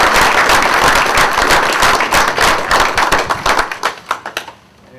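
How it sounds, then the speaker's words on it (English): Loud, dense applause from an audience at a police department awards ceremony, a steady wash of many clapping hands that breaks into scattered individual claps and fades out near the end. "the next applause ought to be for yourself"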